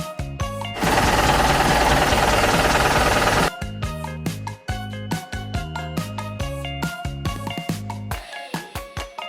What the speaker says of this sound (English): Delivery truck.